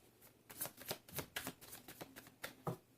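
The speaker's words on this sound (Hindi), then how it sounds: "this is my last shuffle" A deck of tarot cards being shuffled by hand, with a string of crisp riffling bursts and soft slaps repeating in an uneven rhythm, close and clear with no talking.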